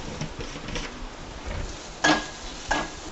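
A spatula scrapes and stirs onions with turmeric, asafoetida and chilli masala in a pan. Soft scraping runs throughout, with two sharper metallic clinks near the end and a faint sizzle beneath.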